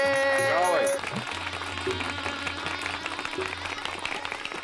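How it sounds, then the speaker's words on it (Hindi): Wedding guests welcoming a procession clap in a continuous crowd patter after a brief musical tone, with voices talking over the applause throughout. "तालियां बजाइए"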